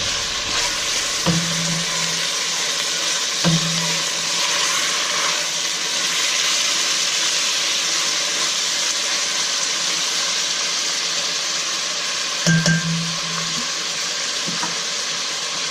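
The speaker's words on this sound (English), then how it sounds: "just going to cook the meat for, turn it up a bit, brown it" Lamb meat browning in a pan on raised heat for biryani, a loud continuous close sizzle with a few brief clanks and scrapes of stirring, no voices.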